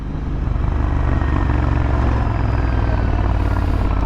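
AEW TE102 motorcycle engine burbles steadily from its exhaust as the throttle closes during a night ride in Bangalore, a loud, continuous low rumble with wind noise over it.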